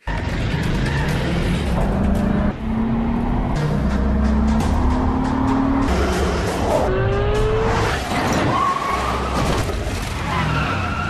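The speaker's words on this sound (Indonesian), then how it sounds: "Lin berhasil menghadang mobil curian tersebut hingga Zhao kehilangan kendali" A stolen car skids out of control during a film chase, tires squealing in long sliding pitches over loud continuous engine roar and road noise.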